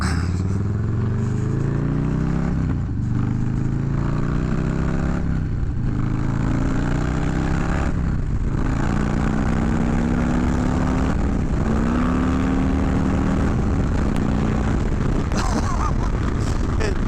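A 2020 Harley-Davidson FXLRS Low Rider S pulls hard on the highway, its V-twin engine roaring loud and close as the pitch climbs through the gears, under steady wind rush.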